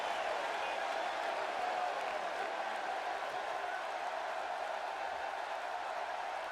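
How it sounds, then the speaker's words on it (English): A video game arena crowd in WWE 2K18 cheers and applauds at a SmackDown wrestling show, a steady, dense roar of noise that holds loud and even throughout with no break. "This crowd is fired up"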